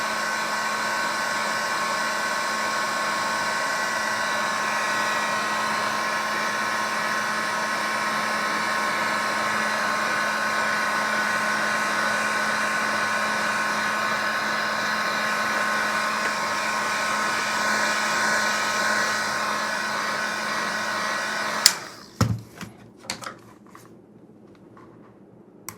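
A heat gun blows steadily for about twenty seconds while heating a thick plastic holster, a Glock 21 holster being cut down to fit a Glock 30, then cuts off, leaving a few faint clicks and handling knocks.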